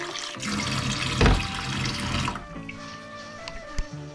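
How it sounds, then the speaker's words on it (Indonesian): Soybeans being washed for tempeh, with water running from a tap and sloshing in a sink, steady and fairly loud, a louder splash near the middle and a few clinks toward the end. "Make sure wash the beans for several times."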